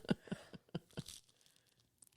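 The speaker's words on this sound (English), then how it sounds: "I can hear the crunch." Crisp crunching bites from someone chewing a salty Vegemite snack, five sharp close crunches in quick rhythm, then fading quieter chews.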